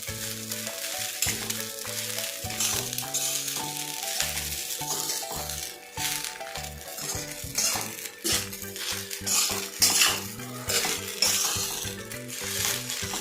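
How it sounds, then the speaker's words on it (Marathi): Salt is stirred into sabudana khichdi in a pan, with a loud continuous sizzle and frying hiss under a steady beat of spoon scrapes and clinks against the pan, close up and without talk, while a music bed runs throughout. "आता व्यवस्थित असं मिक्स करून घ्यायचं"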